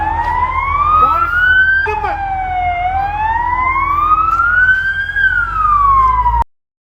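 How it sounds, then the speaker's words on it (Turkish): A loud, close ambulance siren in an earthquake zone in Adıyaman wails in slow rising and falling sweeps, then cuts off abruptly at the end. "Sadece ambulans sesi duyuyoruz burada."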